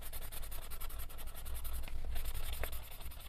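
A Cretacolor colored pencil scratches across paper while coloring a page, a close, steady rapid rubbing of short strokes continuing throughout with a faint hum underneath.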